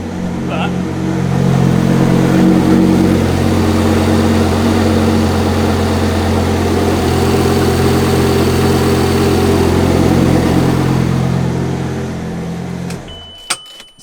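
Lamborghini engine running at a steady idle, loud and close, with a deep rumble that holds for about thirteen seconds before cutting off abruptly.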